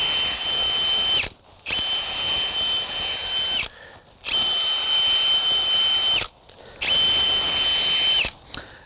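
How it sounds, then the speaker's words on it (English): A power drill whines loudly in four long bursts separated by short pauses, each run steady and high-pitched, recorded up close, drilling holes into the soil of a potted citrus tree. "we drill holes and we feed into the holes"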